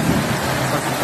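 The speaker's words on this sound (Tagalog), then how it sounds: "sa lakas ng ulan dito." Heavy rain pours in a dense, steady hiss, loud and close, with a low rumble beneath throughout the brief moment.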